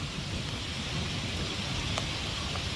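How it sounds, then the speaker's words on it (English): Steady rain falls in the Philippines, a close, even hiss of drops hitting surfaces with a faint low rumble underneath and no talking. "here comes the rain again"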